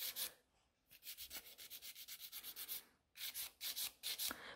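Rhythmic strokes of a file shaping a gel nail extension into a coffin shape, quick scratchy back-and-forth rasps in bursts with a short pause between, close and soft.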